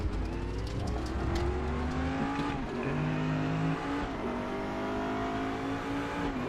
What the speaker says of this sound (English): That's a GT Porsche coming